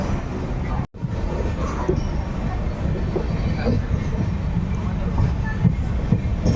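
The Mahananda Express arrives at Thakurganj station, a steady rumble of train wheels and carriage noise with faint clicks, heard from on board and continuous apart from one brief cut.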